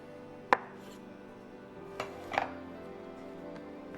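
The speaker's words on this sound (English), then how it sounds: "we cut the flattened dough into 4 equal pieces" A knife cuts flattened noodle dough into pieces for lamb thenthuk, giving a few sharp, isolated thuds against a board, one crisp strike followed later by two softer ones, close by in a quiet room.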